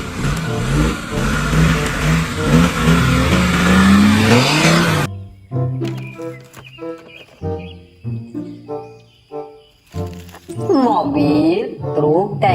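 A toy police combat car plays its electronic sound effects: a loud siren-like wail and engine revving at first, then a string of short rhythmic beeps and tones up close.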